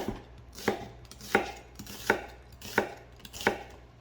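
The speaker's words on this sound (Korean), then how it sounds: "양파 좀 도톰하게 썰어 주세요." A knife thickly slicing onion on a cutting board for Korean spicy pork duruchigi, six evenly spaced, crisp chops close by with quiet gaps between.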